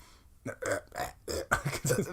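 A drawn-out, gravelly voiced burp imitating a cartoon character's belch, rolling through several close, loud pulses with no other sound around it.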